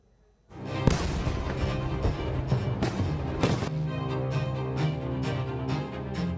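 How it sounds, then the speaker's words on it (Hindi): Diwali firecrackers go off in a dense, continuous barrage of bangs and crackles after a brief silence, with sharper louder pops standing out. "ये जो पटाखे हैं ये आपकी सेहत पर क्या असर डालते हैं।"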